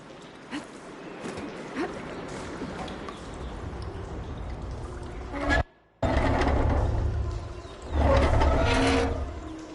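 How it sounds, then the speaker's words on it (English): Water flowing into a room in Horizon Forbidden West: steady low rushing and splashing with scattered drips and clanks, a brief total dropout near the middle, then the flow swells louder toward the end. "Aloy, I can hear water in the room again."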